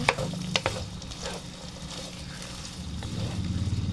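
Winged beans (sigarilyas) sizzle in a pan for Bicol express while being stirred, with a steady frying hiss and a few close scrapes and clatters of the utensil.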